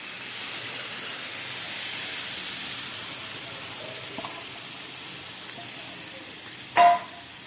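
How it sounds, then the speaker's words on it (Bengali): Paneer paste added to spiced, sautéed vegetables sizzling in a pan for palak paneer, giving a steady frying hiss throughout with a brief louder sputter near the end and no speech. "এবারে আমি এই পেস্ট করা পনিরটা দিয়ে দিচ্ছি।"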